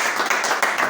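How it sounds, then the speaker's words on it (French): Dense, steady applause from an audience at an award ceremony honouring musicians in Kolwezi, Democratic Republic of the Congo, close and continuous for the whole moment. "est-ce qu'on peut applaudir pour lui?"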